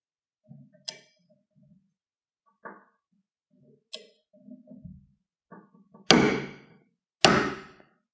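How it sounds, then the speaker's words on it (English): A TEKTON 24340 half-inch drive click torque wrench gives several sharp, close clicks, spaced irregularly, with the last two loudest and ringing briefly as they decay. "When the desired torque setting is reached, you will hear a click."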